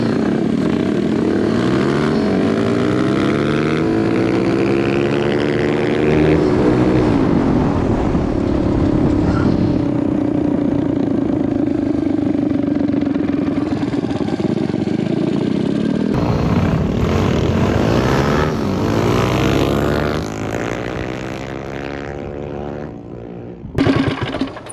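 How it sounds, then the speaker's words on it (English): Small mini bike engines, including a 190cc CT70 and a 225cc Mega Moto, rev hard in a drag race on asphalt, a loud sustained buzzing drone rising and falling through the gears before fading away. "It took me a few passes to get the hang of launching on asphalt, and Ike was having a hard time"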